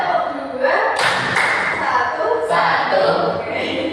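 A class claps a counted rhythm together, with sharp group claps in short bursts while a teacher's voice calls out the pattern.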